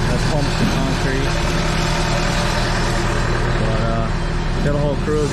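Engines of a concrete truck and a trailer-mounted concrete pump idle at a construction site for a garage floor pour, a loud, steady low rumble that never lets up, with voices talking over it.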